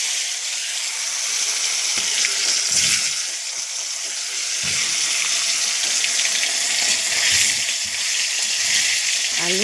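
Potatoes frying in a pan in a home kitchen, a steady hissing sizzle with a couple of brief louder surges, close up and with no talk over it.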